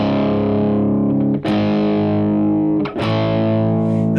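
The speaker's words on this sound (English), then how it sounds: "the first line that we play on the electric guitar will sound like this" Heavily distorted electric guitar strums the chords of a song, loud and sustained, with short chord changes and brief breaks between ringing, fuzzy blocks of sound.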